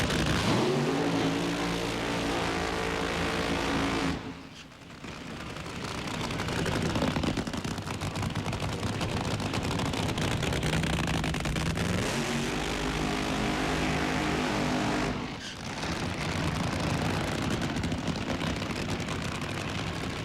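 An NHRA drag racing car at the 1998 ATSCO Nationals runs its engine at a sustained, loud, harsh roar for about four seconds, then a brief dip, followed by another long stretch at full blast and a second short dip.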